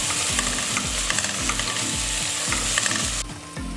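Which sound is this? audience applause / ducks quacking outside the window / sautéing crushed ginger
sautéing crushed ginger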